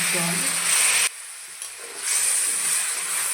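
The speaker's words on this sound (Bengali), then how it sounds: "এখন অল্প করে একটু জল দিয়ে দিব একটু মশলা পুড়ে যাব দিয়ে দিচ্ছি" Water poured onto spices frying in a pan sets off a loud, broad sizzle that cuts out briefly after about a second, then rises again into a steady hiss.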